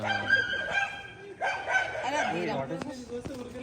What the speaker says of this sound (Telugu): నువ్వు వచ్చినావనే కొట్లాడుతున్నారు కుక్కలు